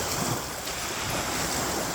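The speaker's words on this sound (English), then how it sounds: "You'd have to paddle through these little waves, bro." Small waves at a beach wash in as a steady, close, hissing surf noise that fills the whole short stretch, with no voices over it.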